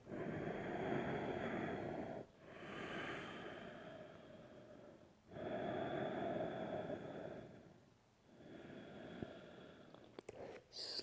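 Slow, deep breaths drawn in and let out during a downward facing dog yoga pose, coming in three long, steady airy cycles with short pauses between, close and fairly soft.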